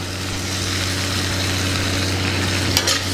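Peanuts fry with chili powder in a pan for a tamarind peanut chutney, giving a steady close sizzle with a low hum beneath. A couple of brief scraping stir sounds come near the end.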